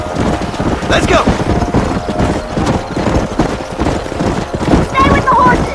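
Horse hooves gallop in a Western video game, a dense, fast clip-clop drumming under wind and a shouted voice, with brief higher calls above it.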